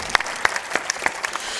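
Audience applause at a spiritual discourse in India, a moderate scattering of claps rising and falling over a short stretch, fairly close and without speech over it.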